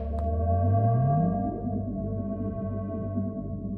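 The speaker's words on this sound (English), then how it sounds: "There are new sounds for beacon activating and being active." Minecraft beacon powering on and staying active, a bright click, then a steady tonal hum with a rising glide that settles into a sustained layered drone.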